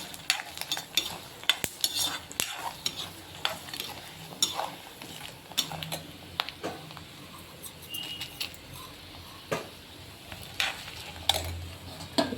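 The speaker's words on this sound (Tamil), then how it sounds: "மிளகாய் நல்லா பொரிஞ்சிட்டு இப்போ வந்து உளுத்தம்பருப்பு கொஞ்சம் போடணும்" Chillies and urad dal frying in a pan for a tangy greens chutney, with a steady close clatter of a spoon stirring against metal and a faint sizzle underneath, no voices.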